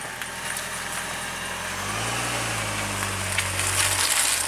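A car engine idles at low revs through a gear change into reverse, the tone rising and holding steady as the vehicle backs up during winter prep, with a continuous close rumble and no talking.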